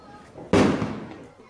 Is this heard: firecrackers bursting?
yes